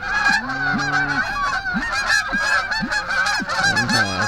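A flock of geese honks overhead during a North Carolina goose hunt, with loud, overlapping nasal calls that repeat rapidly and fill the whole stretch, near and dense with no talk.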